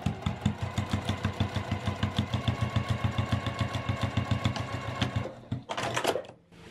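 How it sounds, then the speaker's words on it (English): Sewing machine stitching a vinyl zipper pouch, a fast even run of mechanical clatter at close range that slows and stops near the end, followed by a brief rustle of handling. "I'm going to just sew down a little ways so that I have a tail here left."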